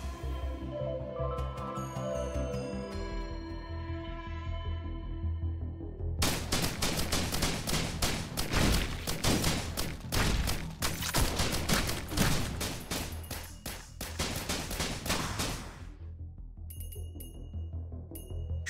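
Rapid gunfire in the game Risk of Rain Returns, dense bursts of shots that start abruptly and run loud for several seconds before stopping, framed by quieter game sounds and music.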